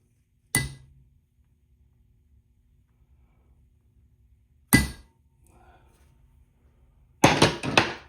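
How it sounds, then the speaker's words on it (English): Three sharp metallic taps from a prick punch struck against a square metal piece, spaced apart with quiet between them, the last a slightly longer ringing double strike, close and isolated. "I'm going to prick punch that and drill the hole"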